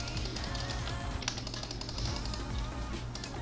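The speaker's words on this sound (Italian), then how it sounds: "Scusatemi se sentirete un sacco di volte il mouse" Rapid clicking of a computer mouse while a farming simulation game is played, with steady close taps running throughout over a low constant hum and faint background game sound.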